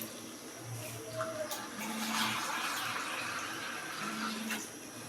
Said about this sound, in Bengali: এই যে পরিমাণ মতো পানি দিয়ে দিচ্ছি আলুটা সিদ্ধ হওয়ার জন্য